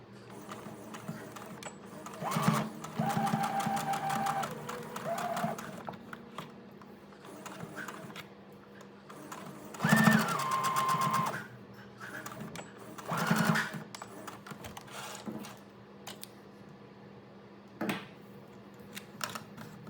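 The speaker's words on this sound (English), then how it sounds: "Now it's time to stitch about 1/2 centimeter in, down here." A sewing machine stitches a fabric face mask, with bursts of rapid mechanical clatter at moderate volume separated by quieter pauses, close by and with no talk over it.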